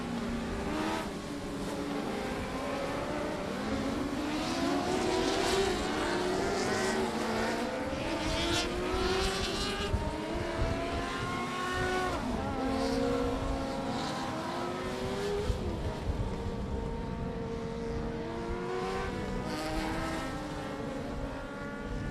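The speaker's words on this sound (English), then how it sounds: "the Dwarf Car Racing Series of Texas out for their feature." Sixteen dwarf race cars in a Texas series feature race on a dirt track at night, engines roaring continuously with rising and falling revs as cars pass, loud and layered.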